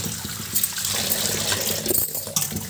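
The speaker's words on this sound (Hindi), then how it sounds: "अब इसको पानी अच्छे रगड़ के चावल जैसे ऐसे धो लेंगे" Flattened rice (poha) is washed by hand in a vessel of water, rubbed like rice grains; steady sloshing and swishing of water with soft scraping runs on continuously, close by, without talk.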